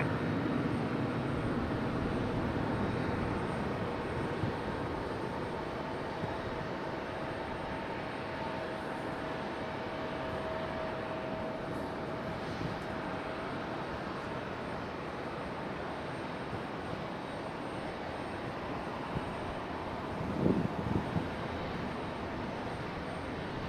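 A Delta airliner takes off from runway 5 left at Raleigh-Durham International, its engines a steady, distant broadband roar that holds evenly throughout, with a brief thump near the end.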